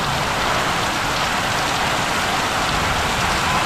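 Steady rain falls on a village in the early morning, a dense, even hiss of drops on surfaces that carries on unbroken and fairly loud throughout, with no voices.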